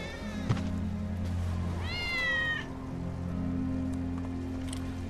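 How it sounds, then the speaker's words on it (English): Wedge's cat in Final Fantasy 7 Remake gives one clear, drawn-out meow midway, sounding close and alone over a quiet, steady background hum with a small click early on. "That's Wedge's cat."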